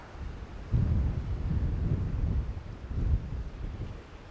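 Wind gusts across an open outdoor spot at night, a steady low rumble of buffeting air that surges stronger near the start and again later, with no voices.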